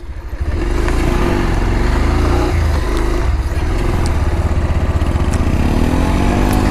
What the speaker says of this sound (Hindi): तो बाइक का पूरा सामने वाला जो टायर है पूरा स्कीड कर रहा है।